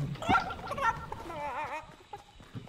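A chicken in a video game gives warbling, clucking calls in short runs at moderate volume, with quieter game sounds in between.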